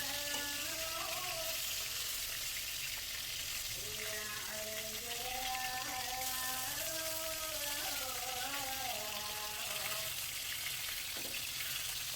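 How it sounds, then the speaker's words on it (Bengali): Half-frying a large batch of poa fish in a home kitchen pan gives a steady broad sizzle throughout, with a voice talking over it much of the time. "অনেকগুলো পোয়া মাছ ছিল তো আম্মু হাফ হাফ করে ভেজে নিচ্ছে সবগুলো মাছ"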